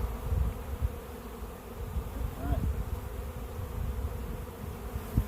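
A steady low hum of many honeybees buzzing around a hive while a bee package is installed nearby, continuous throughout, with a brief spoken word in the middle.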